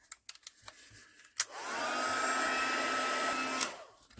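A crafting heat tool is switched on to melt embossing powder and blows a steady whir for about two seconds after a few faint taps. It then clicks off.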